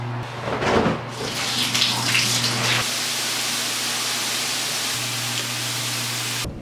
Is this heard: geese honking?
no